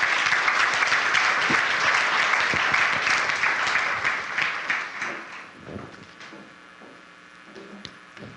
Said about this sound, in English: Let's give a round of applause and welcome our MCs on stage.